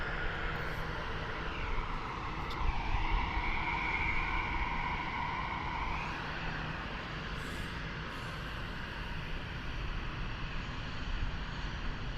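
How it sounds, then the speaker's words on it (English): An Air Transat Airbus A321 airliner at Toronto airport gives off a continuous engine roar with a shifting high whine that bends in pitch, heard steadily from a distance with no talk. "Looks like we have Air Transat. Airbus 321."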